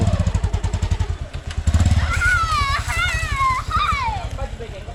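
A Mahindra Yuvo Tech Plus 585 4WD tractor engine chugs loud and close in a rapid, pulsing diesel beat, then settles into a steadier drone while people talk and shout over it.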